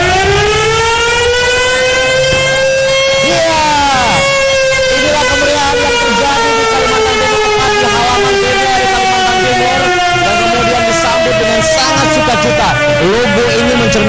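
A loud siren sounds at the unveiling of the new TVRI logo, a long sustained wailing tone that slowly falls in pitch. It dominates throughout, with brief breaks and bursts of other noise along the way.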